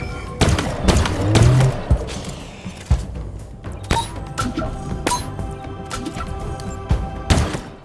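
Heavy gunfire in Halo Infinite's Harbinger boss fight: rapid, loud volleys of shots with booming impacts and mechanical clatter, repeated bursts through the whole stretch, with no talk.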